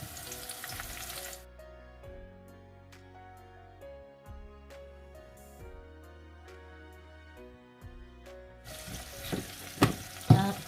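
Ox liver fries with onions and green bell pepper, crackling and sizzling close by at the start and again at the end. Tonal background music fills the long middle stretch.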